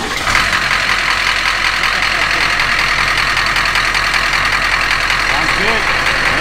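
A turbocharged Humvee with a four-speed swap runs steadily after its first start, a loud, continuous engine rumble with a faint mechanical knock, close to the vehicle, while people talk over it.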